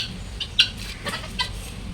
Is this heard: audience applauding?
no